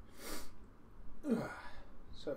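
A single sharp, breathy sneeze burst heard close up, followed by a short exhale and a brief vocal sound.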